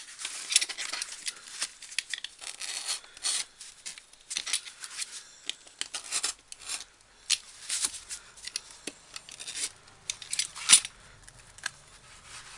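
Quick, crisp snips of scissors cutting out a paper window, irregular bursts with short pauses between cuts.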